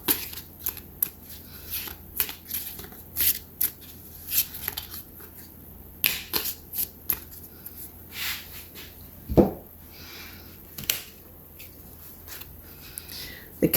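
A deck of cards shuffled and drawn during a card reading, giving close crisp riffles, slaps and flicks in irregular bursts with quiet gaps between them and no speech.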